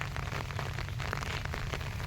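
Heavy rain pours down steadily where goats are kept during days of rain, a dense, close, continuous hiss of drops hitting surfaces, with no voices.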